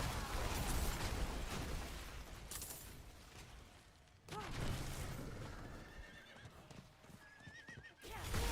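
Horse in the video game Diablo 4, with repeated loud neighs and whinnies over hoofbeats amid dense game combat noise and bursts.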